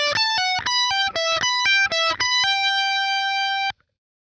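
A distorted electric guitar plays a bar of a solo high on the neck, a quick run of separate picked and pulled-off notes ending in one long sustained note that cuts off sharply.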